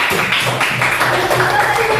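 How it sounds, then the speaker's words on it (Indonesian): Classroom applause from students, a steady wash of many hands clapping together with talk mixed in, filling the whole moment without a break. "beri tepuk tangan"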